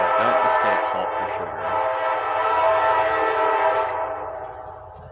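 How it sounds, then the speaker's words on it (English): Train rumbling past close by outside a ruined former hotel turned convalescent center, a steady loud roll with horn-like tonal bands held for about five seconds, fading slightly at the end. "I'm sure y'all can hear the train over here."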